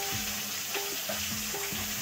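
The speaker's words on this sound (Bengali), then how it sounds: "প্রথমত আমি আলু সিম আর ফুলকপিগুলো ভেজে নেব" Potatoes, flat beans and cauliflower fry together in a kadai, giving a continuous close hiss and sizzle. A low, wavering tonal hum sits beneath it with no voices.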